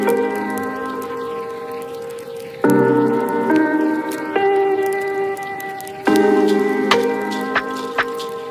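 Melted rapeseed and coconut wax is poured into containers, a close, liquid trickling and glugging with ringing tonal gurgles that shift in pitch as each pour starts, plus a few small drips; no voices.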